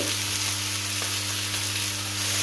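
Bacon fries in a pan for a breakfast sandwich, a steady close hiss and crackle of sizzling fat with no talk over it.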